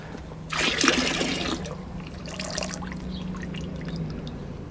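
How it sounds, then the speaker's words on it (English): Leftover coolant from a Dodge Journey radiator during a radiator replacement runs out, a loud splashing gush for about a second followed by a steadier, quieter trickle under a low background hum. "There may be a little coolant left in your radiator,"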